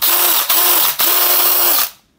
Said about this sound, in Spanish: Ahora lo vamos a probar con el taladro.